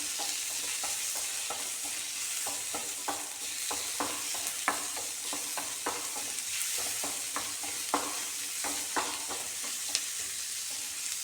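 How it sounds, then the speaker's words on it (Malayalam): Onions sautéing in a pan for a home-cooked lunch curry, a steady soft sizzle broken by repeated scraping clicks of a spoon stirring, close and alone without any talk. "ഉള്ളി വഴണ്ട് വന്നിട്ടുണ്ട്"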